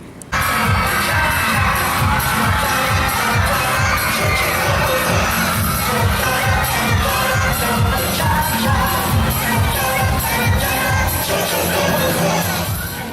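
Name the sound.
audience cheering at pageant in Astrodome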